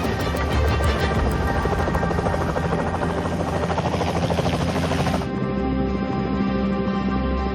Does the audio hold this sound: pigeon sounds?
no